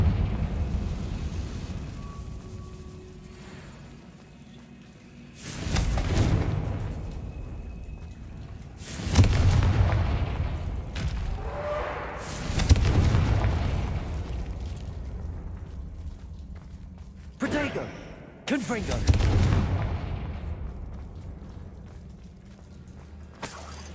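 Fiery Confringo blast spells explode repeatedly inside an old, long-abandoned chamber in Hogwarts Legacy, a series of loud booming bursts spaced a few seconds apart with rumbling decay over a low ambient background.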